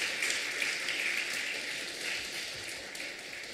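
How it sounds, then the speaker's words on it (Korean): A church congregation applauds a missionary at a Sunday afternoon service, a sustained, fairly faint patter of clapping hands that gradually thins out. "선교사님 위해서 박수 한번 쳐주실까요?"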